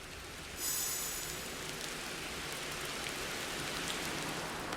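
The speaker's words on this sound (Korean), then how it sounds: "귓가에 유독 빗소리가 크게 들려서 설핏 잠이 깼어요" Steady, even rain falls without a break, a soft constant hiss heard close by at night, with a faint high ringing tone briefly at the start.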